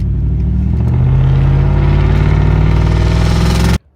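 A 2015 Ford F-150 pickup with a straight-pipe exhaust idles loud and close, a deep steady rumble with a slight rise in revs, cutting off abruptly just before the end.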